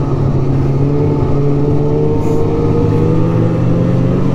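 A 1999 Polaris Indy Classic 500 touring snowmobile engine runs outdoors in a steady, loud, close drone that holds without a clear rev change.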